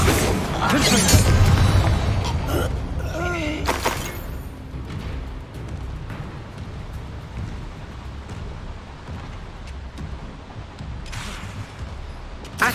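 Confringo blasting spell in Hogwarts Legacy, a couple of loud booming explosive bursts early on, followed by crackling debris and a long fading rumble.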